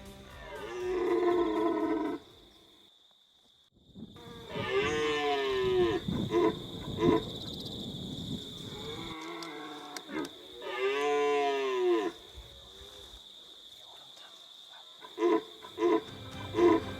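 A red deer stag roars during the rut, giving several long, hoarse, bellowing roars separated by pauses, fairly close and loud in an outdoor setting.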